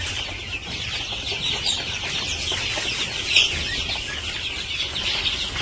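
A flock of chickens on a village farm cluck and squabble while jostling over feed, a busy continuous chorus of clucks and scratching up close with a brief louder squawk partway through.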